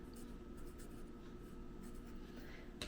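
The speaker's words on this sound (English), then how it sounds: "Let's write down the name." Pen scratching across paper while writing out the name of an angle in a geometry lesson, a soft continuous rubbing over steady background hum, no talk.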